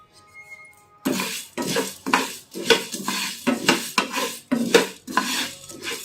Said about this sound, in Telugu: నెక్స్ట్ ధనియాలు వేయించుకోవాలి